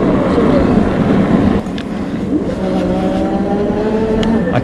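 Ladies' Super73 Z1 electric bike riding along a street, its motor giving a steady rising whine under heavy wind rush, with a few tonal sweeps as speed changes.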